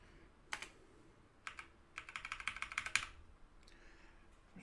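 Computer keyboard typing in bursts: a few isolated key clicks, then a quick run of about a dozen rapid keystrokes, then a couple of faint taps, all close and fairly quiet with no voices.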